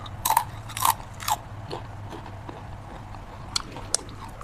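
Crisp bites into a crunchy homemade seaweed popia snack: three sharp crunches close together, then quieter chewing and a couple of small crackles, with no speech.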